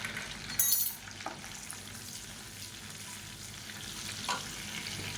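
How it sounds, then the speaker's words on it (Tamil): Cumin seeds and chopped green chilies frying in hot oil in a pan, a steady soft sizzle with an early burst of crackle and occasional light stirring clinks. "இப்போ எண்ணெய் நல்லா சூடாகிடுச்சு. 1 டீஸ்பூன் போல் சீரகம் சேர்த்துக்கலாம்"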